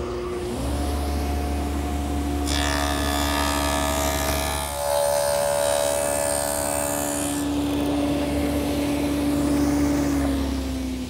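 A power tool, likely a router or table saw, drones steadily in a woodshop while cutting a 1/8-inch rabbet along the bottom edge of a drawer front for a Shaker tall chest, with a louder cutting passage midway.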